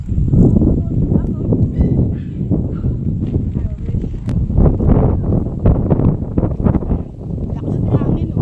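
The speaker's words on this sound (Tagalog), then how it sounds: "Lakas ng hangin, oh." Strong wind on an outdoor walk buffets the microphone with a steady low rumble, while people talk over it throughout.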